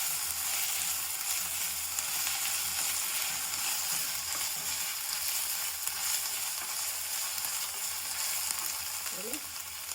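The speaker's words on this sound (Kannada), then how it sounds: "ಶುಂಠಿ ಬೆಳ್ಳುಳ್ಳಿ ಪೇಸ್ಟ್ 1 ಚಮಚ, ಹಸಿ ಹೋಗೋವರೆಗೂ ಸ್ವಲ್ಪ ಫ್ರೈ ಮಾಡಿ" Ginger garlic paste frying in a pan, a steady, even sizzle that holds at the same level throughout, with a few faint stirring scrapes near the end.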